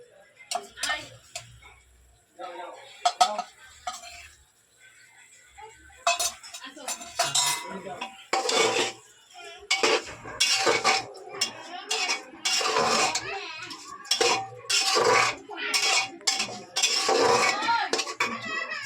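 Spoon stirring sambar in a metal pot, repeated clinks and scrapes in irregular bursts with quiet gaps, close and clear, with some speech in between.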